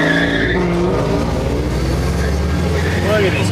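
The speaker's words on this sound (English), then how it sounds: "Is that srt4? That thing sounds so insane." A Dodge Neon SRT-4 races a Pontiac G8 on a public road: loud, close engines rev hard while tires squeal in rising and falling whines throughout, with voices faintly underneath.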